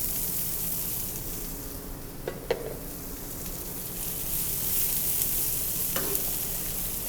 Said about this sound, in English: So now you want to just add your Brussels sprouts to your pan.